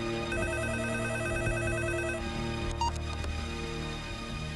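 In a Bollywood film scene, a telephone rings continuously, a repeating electronic ringtone that carries through the whole moment against a backing of dramatic film music.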